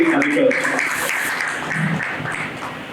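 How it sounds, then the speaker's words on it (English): An audience at a Round Table India gathering in a hospital claps at moderate volume, steady and even for a few seconds, mixed with some voices. "And big round of applause for Gopal ji"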